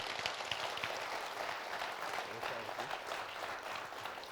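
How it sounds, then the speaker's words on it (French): Studio audience applause welcoming a stylist on a French business talk show, a faint, steady wash of clapping heard from a distance throughout. "Sous vos applaudissements."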